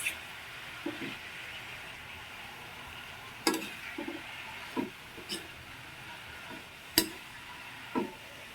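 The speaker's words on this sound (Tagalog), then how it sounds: "Ilagay na natin ang ating sayuti. I-mix lang po natin." Sayote being stirred into a sautéing pan, heard as a soft steady sizzle with scattered scraping clicks and taps from the spoon against the pan, a few sharper knocks among them.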